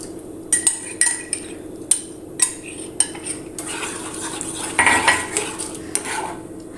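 A spoon stirs a jackfruit drink mixture in a pot, knocking and clinking against the metal in a run of sharp, close taps, then settling into softer scraping and swirling.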